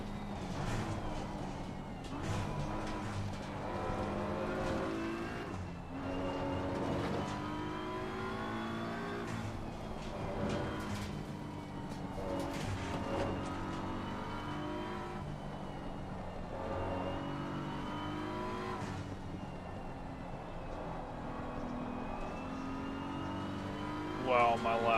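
A BMW race car tears around Suzuka in a racing video game, its engine droning and revving continuously through repeated upshifts and throttle lifts, steady and fairly loud throughout.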